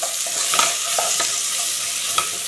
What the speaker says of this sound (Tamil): இது எல்லாத்தையும் ஒரு கலர் கலந்துக்கலாம்